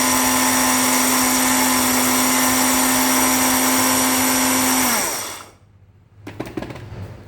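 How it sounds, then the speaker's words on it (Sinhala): A blender grinding roasted Ceylon coffee beans, a loud steady motor whine held for about five seconds before winding down, then a few clattering knocks as it stops. "අපි මේක බ්ලෙන්ඩරේට දාමු."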